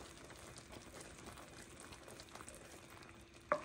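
Soft, continuous bubbling and crackling of butter boiling in a pan as its water cooks off for toffee, quiet and steady, with a faint clink near the end.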